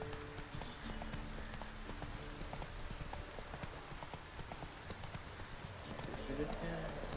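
Horse hooves clip-clopping at a steady gallop in The Witcher 3, a continuous rhythmic thud under game ambience with faint rain and a voice talking over it.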